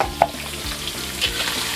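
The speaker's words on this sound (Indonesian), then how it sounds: "Kemudian kita aduk rata." Ingredients for kambar banang, with fermented pakasam, shallots, lemongrass and galangal, are stirred and scraped in a frying pan amid a soft continuous sizzle and a few light utensil knocks, close up with no voices.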